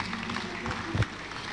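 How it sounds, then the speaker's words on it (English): Audience applause at an open source technology conference, faint and steady throughout, with a few voices mixed into the clapping. "Round of applause for design."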